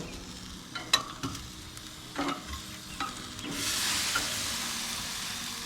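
Chicken barbecue cooks in a pan with scraping stirs and clacks, then a louder hiss of sizzling and steam swells toward the end, heard up close.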